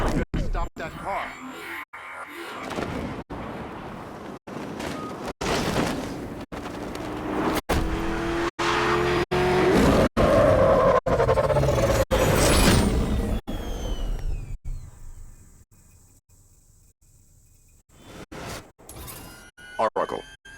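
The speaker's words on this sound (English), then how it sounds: "You better stop that car." A car chase in the game Batman: Arkham Knight plays out with a roaring engine, whooshing passes and a high tire skid squeal midway, mixed with game voices and cut by sharp clicks, then dropping quieter near the end.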